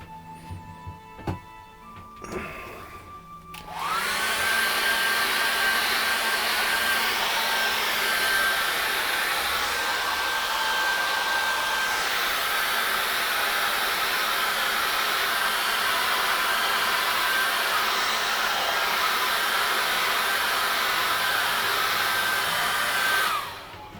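A hair dryer drying an acrylic painting switches on after a few seconds of small handling noises, then blows with a loud, steady whir held close for about twenty seconds before cutting off.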